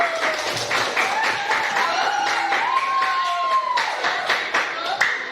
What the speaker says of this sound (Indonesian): ibu minta semuanya boleh berikan tepuk tangan